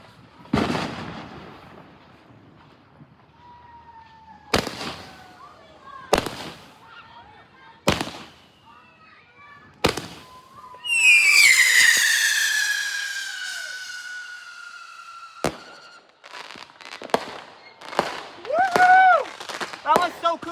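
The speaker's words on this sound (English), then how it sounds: "that concludes the fireworks lineup, all the fireworks that we bought" Backyard consumer fireworks on July 4th: a string of sharp bangs, then a long whistling, crackling burst and a rapid cluster of pops and squeals at the end, with voices nearby.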